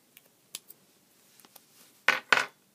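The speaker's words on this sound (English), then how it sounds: "So we want to cut off that top of the bowl there." Scissors snip a small paper piece for a stamp project, with a few faint clicks and short cuts building to two louder crisp snips near the end, close and quiet, no talking.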